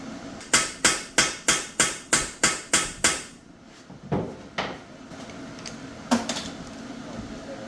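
Metal hammer blows drive pins in an NV3500 transmission case: about nine sharp, evenly spaced strikes in a quick run, then a few scattered, softer knocks after a pause. Close and loud.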